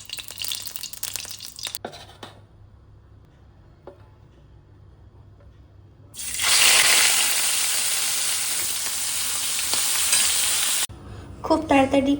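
Chopped vegetables and onion fry for fried rice, with a quiet start giving way around six seconds to a loud, steady, hissing sizzle that holds for several seconds and then cuts off abruptly.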